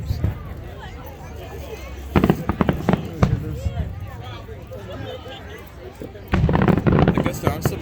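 Fireworks at a 4th of July show burst in loud bunches of sharp cracks and crackles, with a quieter stretch of low rumble and crowd chatter between the volleys; voices murmur throughout.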